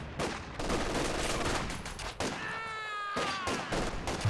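Rapid gunfire rattles through a Company of Heroes 2 battle, dense bursts of shots crowding together up close, with brief whistling tones and game effects over the steady clatter.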